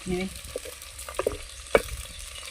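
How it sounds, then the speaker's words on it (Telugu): Chopped onions frying in oil make a soft, steady sizzle, with scattered stirring knocks and clinks, one sharper clack near the end, and a brief murmur of background voices. "ఆయిల్ పోస్తున్నాం తరిగిన ఉల్లిపాయలు వేస్తున్నాం"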